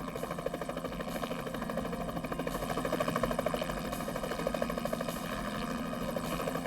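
A helicopter fitted with an infrared heat-seeking system drones steadily with a dense rotor and engine hum, continuous and fairly even throughout, with no voices.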